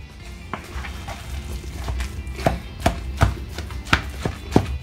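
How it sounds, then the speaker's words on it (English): Ground meat filling for egg rolls is being mixed and pressed, giving a series of close, irregular thuds and slaps against a bowl or board, growing denser and louder toward the end, with no talk. "We're mixing it."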